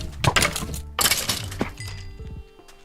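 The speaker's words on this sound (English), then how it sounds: "It sounded like glass breaking." Glass breaking in the Minecraft video game: a couple of bursts of crackling shatter with clinks and a thunk, then a quieter tail, with no talk.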